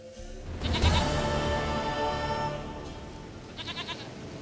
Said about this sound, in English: That's one cute goat.